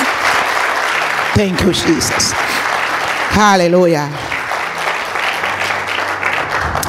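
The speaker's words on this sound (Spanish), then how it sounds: "Dele otro aplauso a Dios, por favor." Church congregation applauds God during a women's service, steady, loud clapping filling the room while a preacher's voice rises over it twice with short exclamations.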